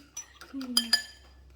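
Metal spoon clinking and scraping against a bowl while scooping sugar for baking, a few quick faint clinks and taps close by, with soft talk in the background.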